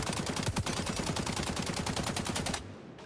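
Sustained automatic rifle fire in XDefiant, a rapid, even string of close, loud shots for about two and a half seconds as the shooter holds down recoil, then stopping abruptly with a brief tail.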